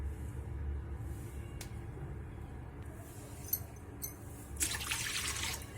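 Water trickles and splashes into a kadhi pan with butter on a gas stove against a low background rumble, with a brighter gushing pour near the end.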